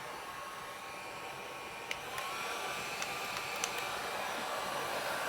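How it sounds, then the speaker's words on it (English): A heat gun blows a steady, even rushing whoosh while drying chalk paste on a t-shirt, with a few faint clicks in the background. "start drying this out. Just a little bit using the heat gun"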